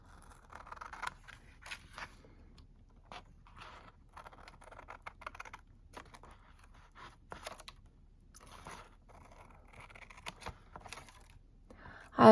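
Scissors snipping off small pieces of wrapping paper: a scattered series of quiet, crisp snips and paper rustles at an irregular pace, close by with no talking.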